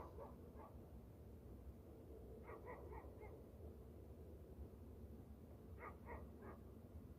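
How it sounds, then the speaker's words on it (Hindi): Distant dogs bark in three short clusters of two to four yelps each, set apart by pauses, over a faint low outdoor rumble. "ये जो कुत्ते भौंकते हैं तो ये एक चेतावनी होती है"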